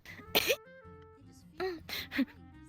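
Two or three short, harsh coughs burst out close by, with a throaty rasp, separated by brief pauses and faint background murmur.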